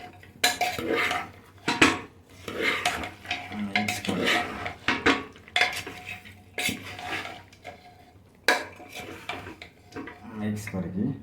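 Metal spoon scraping and clattering against a pot while mutton curry is stirred, Odia feast style, with repeated bursts of clinks and knocks, fairly close, alongside talking.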